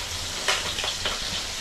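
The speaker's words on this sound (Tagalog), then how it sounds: "tatapos na tayo magprito ng tinapa" Steady, loud sizzling of smoked fish (tinapa) frying in hot oil, a continuous crackling hiss with small pops.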